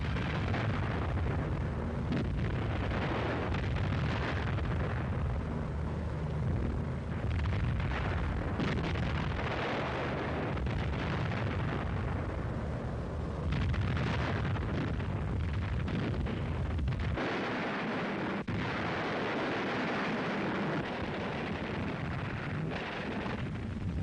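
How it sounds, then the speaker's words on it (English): Wartime bombing of German rail yards, troop concentrations and fuel dumps in Italy: a continuous roar of heavy explosions and booms, dense and rumbling throughout, with no talk. "Ahead went the bombers in overpowering force to destroy German rail yards, troop concentrations, fuel and supply dumps."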